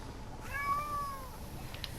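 A house cat gives one clear, drawn-out meow that rises and falls, fairly close but not loud, over a quiet room hum with no talking.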